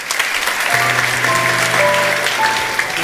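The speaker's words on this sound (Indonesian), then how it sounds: "Beri tepuk tangan." Church congregation applauding during an Easter service, a steady wash of clapping lasting about three seconds with a held organ or keyboard chord sounding underneath.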